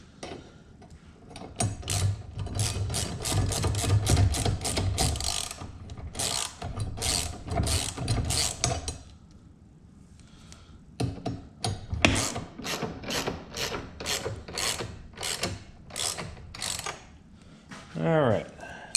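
Bolts on a new tool box mounting bracket for a John Deere 1025R tractor are snugged up with quick bursts of ratchet clicking, close and crisp, in two runs separated by a short pause, with no voices over it.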